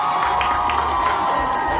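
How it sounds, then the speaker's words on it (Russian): Audience cheering and shouting after a live song performance, a dense crowd roar with whoops and a sustained tone underneath, loud and continuous over a short stretch with no speech. "Ваши аплодисменты!"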